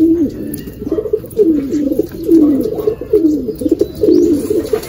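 A racing pigeon coos in repeated low, throaty rolls close by, a rhythmic series of warbling calls after landing, with faint background noise.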